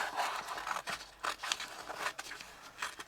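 Scissors snipping pieces out of a luxe paper pad, a run of quiet, close crisp cuts and paper rustles with no talk.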